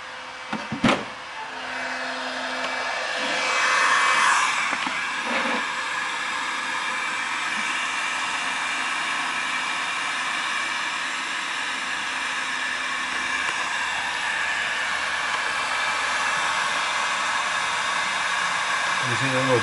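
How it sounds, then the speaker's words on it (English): A hair dryer heating heat shrink on a Mazda RX-8 blows continuously with a steady whooshing roar, starting after a brief click and running for the whole stretch. "Let me see that fucking hair dryer."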